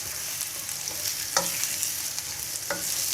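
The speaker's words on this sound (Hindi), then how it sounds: "2 से 3 मिनट में इसको सौते करूँगा। फ्लेम मैंने मीडियम रखा हुआ है।" Kachnar keema chicken sautéing in a pan over a medium flame: a steady, bright sizzle with a few soft stirring scrapes, continuous and close, with no voices.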